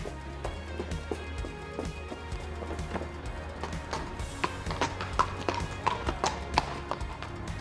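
Horse hooves clip-clop steadily during a show jumping ride, a rapid, even rhythm of close strikes with occasional louder thumps, set against a continuous low background hum.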